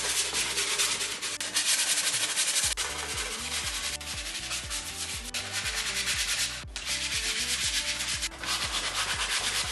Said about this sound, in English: I'm just gonna sand this down until we have a nice clean cut